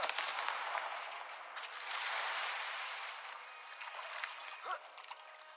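A Confringo spell blast fired in Hogwarts Legacy, a loud, sustained burst of crackling fiery noise that trails off gradually, with a short whistling flourish near the end.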